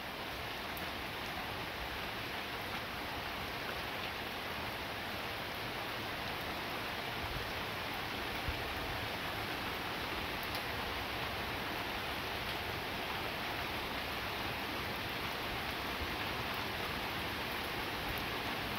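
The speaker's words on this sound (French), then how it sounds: "C'est en train de devenir un peu pluvieux même." Rain pours during a moderate to strong September thunderstorm, a dense unbroken wash of hissing drops that holds steady and close throughout, with no voices or thunder.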